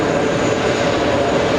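A jet airliner taxiing at JFK airport gives a steady, close engine roar with a broad whine, running continuously without talk.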